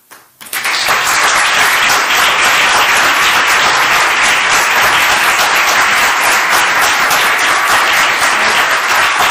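Loud, sustained applause from a large crowd, steady and dense throughout after a brief quiet start.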